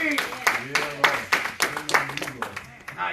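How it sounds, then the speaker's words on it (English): A church congregation claps hands in praise, a run of sharp, uneven claps rising and falling in bursts, with voices talking and calling out underneath. "Give God a hand clap of praise."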